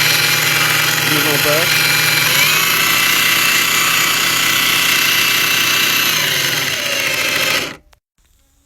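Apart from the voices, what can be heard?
Parkside X20V cordless power tool running at speed 1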